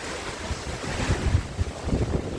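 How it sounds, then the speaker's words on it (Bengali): Strong cyclone wind with rain roars and gusts, thumping against the microphone in low bursts, a harsh storm blowing with no voices. "অনেক জোরে বাতাস বয়ে যাচ্ছে"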